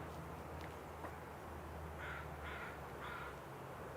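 Three harsh crow caws ring out in a steady rhythm at a distance, over a faint hiss of outdoor background noise.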